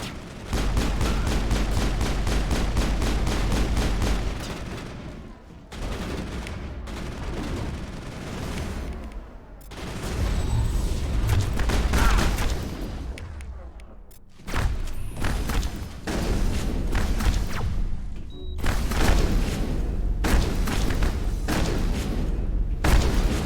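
Gunfire in Mass Effect 1, a video game: repeated rapid bursts of weapon fire mixed with heavy thuds and booms, loud and dense, broken by brief pauses across a long firefight.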